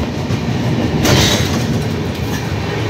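The Sealdah Rajdhani Express runs through Bardhaman without stopping, heard from inside an AC coach as a loud, steady rumble with rhythmic wheel clatter and a brief rush of air passing outside.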